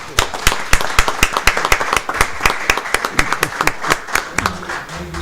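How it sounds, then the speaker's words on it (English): Sparse applause at a commission meeting, a small group producing distinct, crisp individual claps at an uneven rhythm, close and loud, fading as a voice begins speaking near the end. "Can we give Mike a round of applause?"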